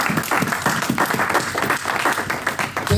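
A church congregation breaks into lively clapping and applause, a dense burst of many hands lasting a few seconds, close and loud.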